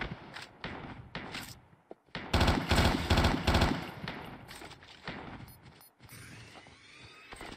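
Gunfire in the game Call of Duty Mobile during a Christmas event match: bursts of rapid automatic fire and mechanical clacks, loudest in a dense volley midway, with quieter shots before and after.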